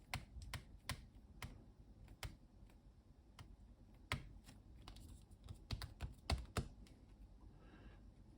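Keys clacking on the keyboard of a Micron ZX Spectrum clone computer: irregular, sharp key presses, some in quick bursts, close and fairly quiet over a faint hum, with no talking.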